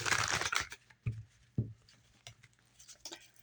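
Tarot cards are shuffled in a deck, giving a dense papery flutter of riffling at the start and then a few short separate slaps and patters of cards, close by with no talking.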